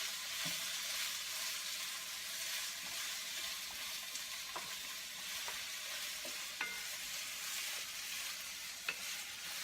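Onions frying in sesame oil in a pan, a steady soft sizzle with occasional clicks and scrapes of stirring, close and quiet with no talk.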